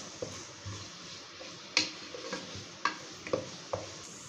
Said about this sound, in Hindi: अब हम इसमें चॉप की हुई शिमला मिर्च और गाजर ऐड करेंगे। हम इसको पूरा प्रॉपर तरीके से मिलाएंगे।